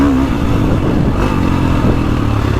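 A KTM 450 Factory Edition motorcycle engine runs loud and close, a steady revving drone with some clatter that holds throughout, with no talking.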